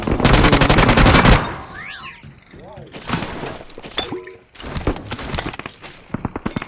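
Rapid automatic gunfire from an Uzi submachine gun in PUBG Mobile, a loud dense burst opening the clip, followed by scattered shots, clicks and game effects, with a voice talking over parts of it.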